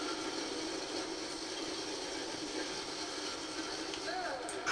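Skaven ratling gun from Warhammer: Vermintide 2 firing in a dense, unbroken mechanical rattle that holds steady at loud volume for several seconds amid busy game noise.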